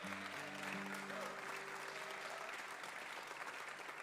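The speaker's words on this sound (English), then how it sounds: "So please give the volunteer crew a big round of applause." An audience at a livestreamed folk music show applauds the volunteer crew, a steady wash of clapping under a low sustained tone, fairly distant and soft.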